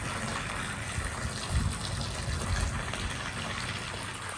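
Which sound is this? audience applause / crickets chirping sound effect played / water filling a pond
water filling a pond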